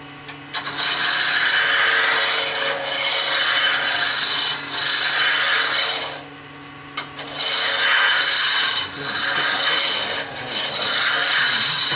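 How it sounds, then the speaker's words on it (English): Roughing gouge cutting a spinning wood blank round on a lathe, a steady loud rasping scrape in long passes with a brief lull near the middle, heard alone without talk. "The usual thing to turn a pin round, or to turn a blank round, is just a plain old roughing gouge."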